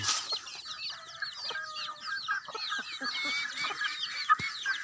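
Native chickens clucking and chattering continuously and fairly close, with several birds calling over one another and one sharper squawk near the end.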